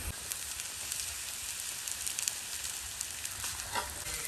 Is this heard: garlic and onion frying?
yes